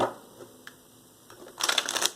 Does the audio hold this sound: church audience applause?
no